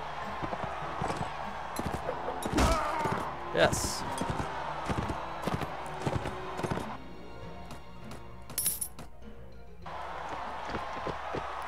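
Horse hooves in Mount & Blade Warband during a tournament, heard as an irregular, fairly close series of thudding clip-clop beats. Sharp impacts are scattered through the clip, with a brief spoken word among them.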